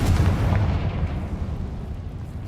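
Confringo fire spell explodes in a video game cavern, a single deep rumbling boom that rolls and fades over about two seconds, with no voices.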